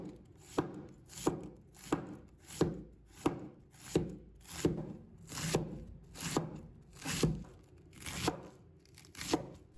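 A knife shreds cabbage into thin strips on a cutting board, sharp crisp chops landing in a steady rhythm of about one every second, close and clear with no voices.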